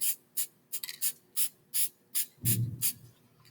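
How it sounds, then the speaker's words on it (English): A series of short, hissing aerosol spray bursts onto a disc brake pad in a steady rhythm, about eight in all, close and fairly loud, with a brief rubbing sound partway through. "And then I can spray this pad also."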